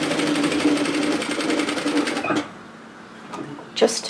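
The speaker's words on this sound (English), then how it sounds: "I'm just going to run a line of stitches" A sewing machine runs a line of stitches along a cardigan hem edge, a steady rapid whirr for over two seconds that stops abruptly, followed by a couple of faint handling sounds.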